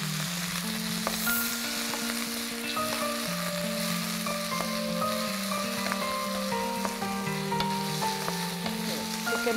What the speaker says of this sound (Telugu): చికెన్ బాగా నేను ఫ్రై చేసుకుంటాను.